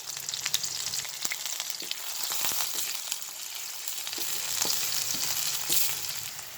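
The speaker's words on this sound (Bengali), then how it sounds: "তেলটা গরম হয়ে গিয়েছে, আমি পেঁয়াজ আর কাঁচামরিচ কুচিগুলো ঢেলে দিলাম।" Chopped onion and green chili sizzle in hot oil, a continuous bright crackle and hiss with scattered sharp pops and occasional stirring scrapes, close up and without voices.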